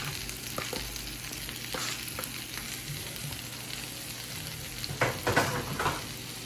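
Cooked shrimp hitting a hot pan of garlic butter sauce, a continuous sizzle and frying hiss with a few sharp crackles and a louder burst of spattering near the end.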